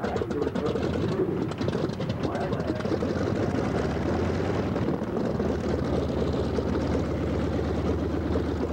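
A Curtiss Speed Wing biplane flies past at an air show, its steady propeller and engine drone filling the air loudly and continuously, with a faint voice underneath.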